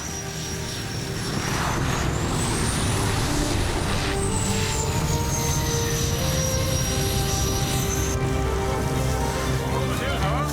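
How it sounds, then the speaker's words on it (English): A bush plane touches down and taxis on snow on a frozen northern lake, its engine a steady, loud drone with a shifting high whine throughout. "That was the first time I see a plane landing on snow."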